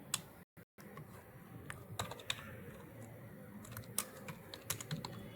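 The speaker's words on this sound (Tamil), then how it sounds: "என்னோட ஃபைல் நம்பரை நானே இங்கே டைப் பண்ணிக்கலாம்." Typing on a computer keyboard in an office setting, scattered quick key clicks and taps at an irregular pace, close but fairly quiet over a low room hum.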